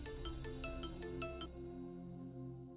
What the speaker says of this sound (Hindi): मानवी, फिर से इंस्पेक्टर का फोन है।